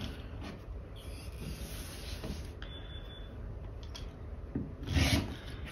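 A rotary cutter rasps steadily along a quilting ruler, trimming a fabric block; the quiet scraping continues throughout with a brief louder rub near the end.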